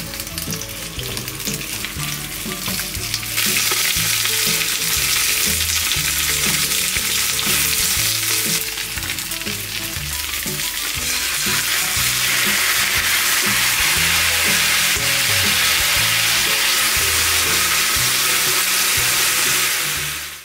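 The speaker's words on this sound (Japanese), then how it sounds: "この厚揚げを使ってステーキをね、作っていこうと思います" Thick atsuage tofu slices for a ginger-style steak sizzle loudly and steadily in a hot frying pan, with a constant crackling hiss that lasts throughout and no talking.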